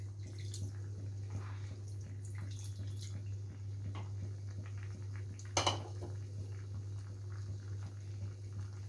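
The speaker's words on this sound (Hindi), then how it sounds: "इसमें थोड़ा सा पानी और डालेंगे" Water is poured into a pan of potato curry made with yogurt, giving a faint, continuous trickle and bubbling over a low steady hum, with a brief louder clatter midway.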